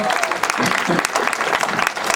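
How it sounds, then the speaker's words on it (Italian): Audience applause rings out at a street event inaugurating new sundials in Aiello, greeting a woman introduced by name; dense, steady clapping fills the whole stretch at close range. "un applauso anche a Marianna Moruso"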